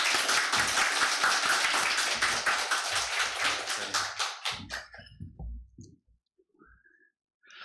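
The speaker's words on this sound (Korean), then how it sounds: "우리 목사님 나오실 때 환영의 박수 하겠습니다" A church congregation gives welcoming applause as a pastor comes forward, with dense clapping for about five seconds that thins to a few scattered claps and quiet.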